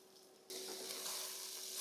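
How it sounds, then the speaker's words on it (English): Sausages browning in a pan, a faint sizzle that suddenly swells into a steady, bright frying hiss partway through. "my sausages are browning up nicely"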